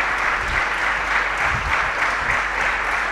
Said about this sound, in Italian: E dopo questo lungo ma meritatissimo applauso